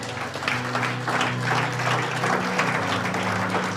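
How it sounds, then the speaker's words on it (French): A church congregation bursts into loud, sustained applause and cheering for Jesus, with the sound of a full room clapping together. "Est-ce qu'on peut acclamer pour Jésus?"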